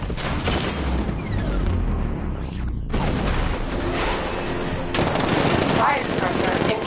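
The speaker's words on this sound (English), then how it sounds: "60mm cannon operational." Heavy cannon fire from the Batmobile's 60mm gun in the video game Batman Arkham Knight, a dense continuous barrage of booming blasts with a brief lull before the loud firing resumes.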